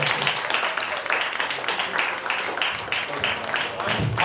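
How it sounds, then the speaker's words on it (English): A book launch audience applauding, dense steady clapping that holds for several seconds, moderately loud and alone without talk. "So can we have a warm round of applause?"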